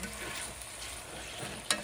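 Beef stew meat and vegetables browning in a pot, giving a steady, close hiss of sizzling with light stirring scrapes and a brief clatter near the end, and no voices.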